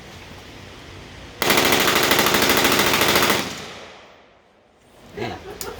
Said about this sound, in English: So he's going to fire a few rounds semi-automatic, and then he'll go to full auto